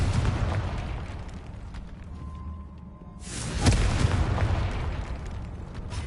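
In the Hogwarts Legacy video game, a Confringo fire spell explodes as a deep burst partway through, set against continuous rumbling battle noise.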